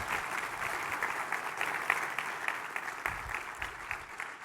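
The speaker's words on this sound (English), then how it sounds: "A round of applause." Audience applause after a conference keynote, a steady wash of clapping from a crowd, moderately distant and continuous for the whole stretch.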